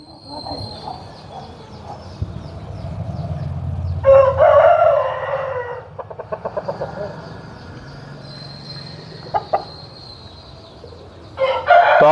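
A heavy, big-bodied Palla Abrash game rooster from Bhimavaram crows loudly and close, twice, with short clucks and scattered clicks between the crows over a low rumbling background.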